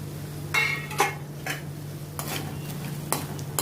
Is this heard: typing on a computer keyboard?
no